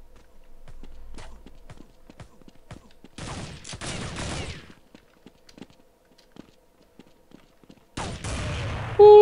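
Gunfire in Counter-Strike 1.6 on the dust_2 map, with scattered sharp shots and two louder, dense bursts of firing, one near the middle and one near the end, among quieter clicks and footsteps.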